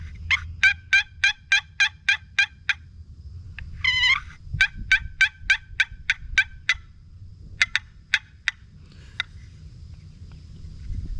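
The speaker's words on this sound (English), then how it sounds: "I just love this box call." A turkey box call runs through quick sharp yelps in a rhythmic series, then a short rasping purr and a few spaced clucks, loud and close.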